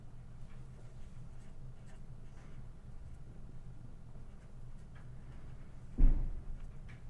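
Pencil writing a word on a lunar phases worksheet, soft scratchy strokes near and quiet, ending in a short bump.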